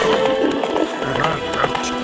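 Roach, the horse in The Witcher 3 video game, gallops with quick rhythmic hoofbeats under steady game background sound. A voice speaks over the hooves.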